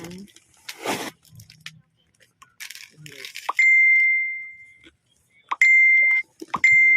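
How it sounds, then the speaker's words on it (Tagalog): Phone notification chimes ring out during an unboxing: a steady high electronic tone holds for over a second, then repeats in shorter bursts near the end, between stretches of handling noise and talk. "Daming notification."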